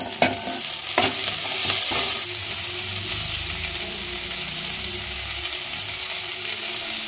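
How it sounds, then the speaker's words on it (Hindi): Chopped onions frying in refined oil, a loud steady sizzle throughout with a few stirring scrapes early on and no talk. "यहाँ पर प्याज जो है हल्की सी लाल हो गई हैं"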